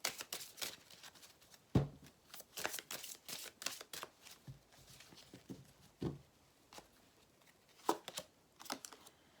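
Tarot cards being drawn and handled at close range, with soft shuffling slides, flicks and light taps coming in irregular bursts, fairly quiet and without speech.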